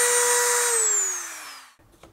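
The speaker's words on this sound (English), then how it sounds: "we need a Dremel or some sort of system which allows the sanding stone to go through the" A high-pitched Dremel rotary tool with a sanding stone grinding through carbon whines steadily and then winds down over about two seconds, ending with a faint clatter.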